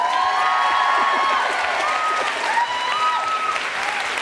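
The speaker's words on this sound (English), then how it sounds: "Everybody applaud him." A live audience at a relationship-advice talk claps and cheers loudly, with dense applause, scattered whoops and high-pitched shouts rising above the clapping.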